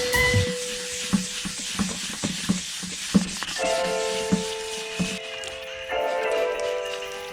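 Sandpaper rubs across a yellowed car headlight lens in repeated rhythmic strokes with soft taps, close-up, while a steady tonal hum joins partway through.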